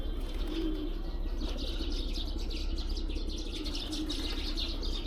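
Pigeons coo softly and flutter their wings at a Shiva temple in Darjeeling, with low calls and flapping over a constant outdoor rumble.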